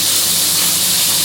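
Steak searing in oil and butter in a pan, a loud, dense, continuous sizzling hiss filling the whole moment without any speech.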